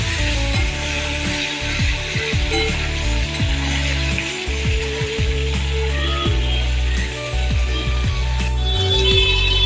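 Steady, loud sizzling of chopped tomato frying in oil, with a continuous crackle and occasional scraping of a spatula stirring the pan.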